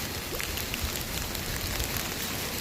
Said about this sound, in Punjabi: ਹਲਕੀ ਹਲਕੀ ਬਾਰਿਸ਼ ਹੋ ਰਹੀ ਸੀ